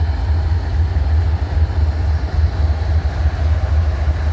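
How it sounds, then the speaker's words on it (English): An ES44AH locomotive hauls a northbound manifest freight train through Abbeville, South Carolina, giving a steady, loud low rumble that holds unbroken from start to finish. "Alright, that's the ES44AH."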